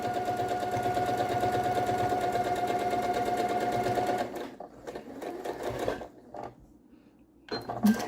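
A sewing machine stitches quilt pieces in a fast, loud, steady whir for about four seconds, then slows and stops, with short bursts and handling noises after.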